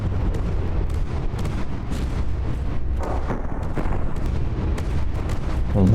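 Battleship cannon fire and shell impacts in the naval combat game From the Depths, a rapid barrage of booms and bursts overlapping one another, loud and continuous, with a heavier blast at the end.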